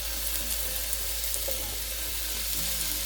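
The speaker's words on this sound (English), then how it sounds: "I'm going to put it all in. and then let it sear on the first side." Beef sears in a hot pan for stew, giving a loud, continuous, even sizzle with a steady low hum underneath and no talking.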